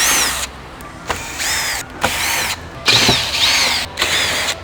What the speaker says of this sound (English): take your 10 mil socket and attach it to a drill